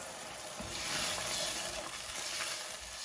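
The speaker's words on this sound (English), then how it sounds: "Give that a bit of a stir." A pan of chicken korma, Indian restaurant style, being stirred as it cooks, with soft scraping and a steady gentle sizzle heard up close and alone.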